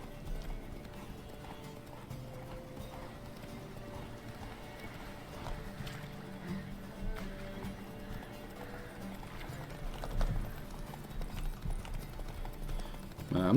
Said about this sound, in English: I'm not a big fan of the horse races